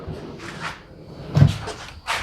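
A wooden rear drawer in a vehicle build sliding open, with a few soft scraping and rumbling slides and a firmer knock midway, close and fairly quiet.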